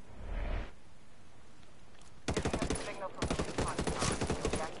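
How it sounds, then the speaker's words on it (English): Gunfire in the video game Ghost Recon, where a brief muffled blast is followed by two bursts of rapid automatic shots, loud and close, with faint talk at the start. "They're fucking sniping, of course."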